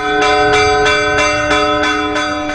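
Church bells in El Salvador toll in a steady, evenly spaced rhythm, about seven resonant strikes ringing out loud and clear with long overlapping hum.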